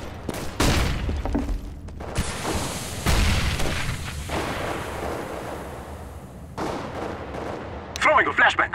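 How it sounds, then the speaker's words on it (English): A flashbang grenade goes off in a round of Counter-Strike: Global Offensive, loud booming bursts and sharp gunfire-like cracks rattling through the first few seconds, followed by lighter clatter and a ringing burst near the end. "Throwing a flashbang."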